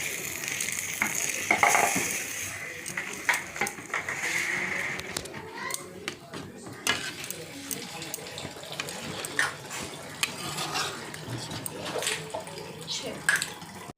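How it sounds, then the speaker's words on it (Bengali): Fried fish head going into a pot of mung dal and being stirred: a soft sizzle with wet sloshing and scraping stirs, a few sharper clinks near the start, steady and fairly close. "মাছটা বেশ ভালো সুন্দর করে ভেজে নিয়েছি এবার ডালের মধ্যে দিয়ে দেবো মাথাটা দিয়ে দেবো"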